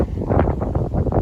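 Gusty wind in Pinjarra, Western Australia buffets the microphone in uneven low rushes, close and fairly loud, with no voices.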